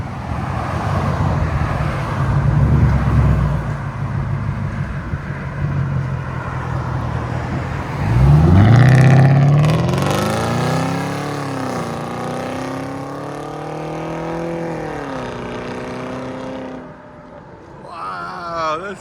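Hyundai Genesis sedan with a 4.6 liter engine and loud exhaust, revving hard from a rumbling idle with a sharp throttle blip, then holding a droning rev before settling, close and loud.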